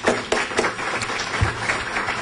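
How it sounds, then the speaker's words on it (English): An audience at a program event applauds guests, a continuous wash of many clapping hands at moderate loudness with a few sharper individual claps standing out, without speech. "Let's first of all give them an applause for coming around."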